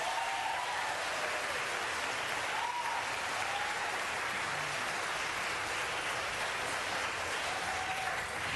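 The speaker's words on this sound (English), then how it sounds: "And I'm not saying that just to get the applause." An audience at a Los Angeles city council meeting on banning circus bull hooks for elephants breaks into sustained applause, a dense, even roar of clapping hands throughout with faint voices mixed in.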